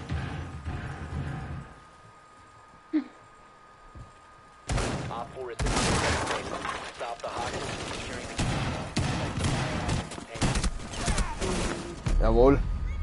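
Gunshots ring out in the tactical shooter Rainbow Six, scattered sharp bursts and single shots after a quiet opening, with voices talking over the action.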